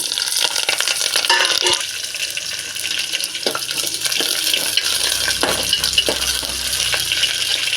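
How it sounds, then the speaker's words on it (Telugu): Dried red and green chillies fry in oil for a cucumber-peel chutney, giving a steady, loud, hissing sizzle that carries on throughout, broken by occasional small clicks of stirring. "మిర్చి అండ్ పచ్చిమిరపకాయలు వేస్తున్నాను నేను"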